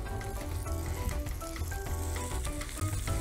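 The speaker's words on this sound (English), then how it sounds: "and then you fry them" Salmon and prawn burger patties frying in oil, a dense continuous crackle and sizzle heard up close, loud and steady throughout with no talking.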